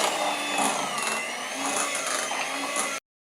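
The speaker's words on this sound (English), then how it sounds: "And it's done, so let's put off this mixer." Electric mixer beating churro dough after the last eggs go in, a steady loud whirring drone with slight surges, running continuously and then cutting off abruptly.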